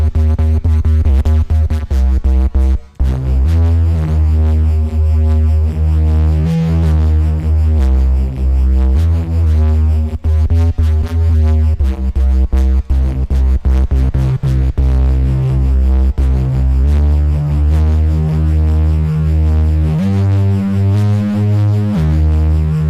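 A Spire software synthesizer patch built from a single waveform with unison switched off plays a steady, rich, buzzy tone that moves through sustained notes, continuous and fairly loud with no talking.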